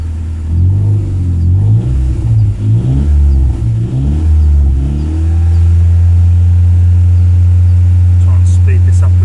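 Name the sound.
car engine revving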